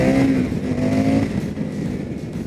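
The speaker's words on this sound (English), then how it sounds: "All right, getting the Indian FTR-S out on the road." An Indian FTR-S motorcycle rides along a road, its engine a steady, close drone with a shifting harmonic whine in the first second or so, then a rougher rumble with no speech.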